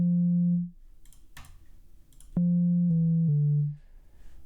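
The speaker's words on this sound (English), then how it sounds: "So this is a sine lookup module, and this takes the phase input and turns it into a sine. So I have a sine wave now." A Bitwig sine lookup module turning a phase input into a sine wave, sounding as a pure steady tone that stops, then returns in short stepped bursts at shifting pitches, with clicks and quiet gaps in between.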